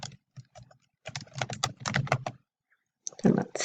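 Typing on a computer keyboard, short bursts of quick key taps separated by pauses, close and fairly loud.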